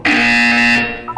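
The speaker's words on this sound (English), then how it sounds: "When you hear the buzzer, look down at the floor." A steady electronic buzzer tone in Portal 2 sounds loud and close for about a second, ending abruptly, followed by a short electronic chime.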